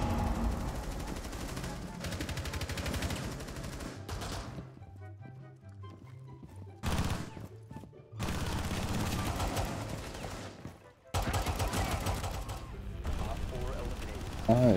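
Rainbow Six Siege gunfire, with bursts of automatic shots forming loud, dense stretches broken by brief quieter gaps, mixed with game sounds and players talking over it.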